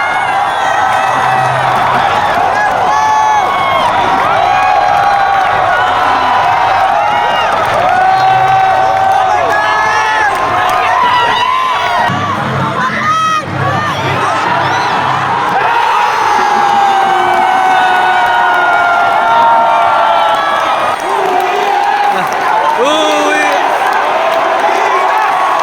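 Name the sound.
crowd of Filipino and Saudi fans cheering after Brownlee's game-tying three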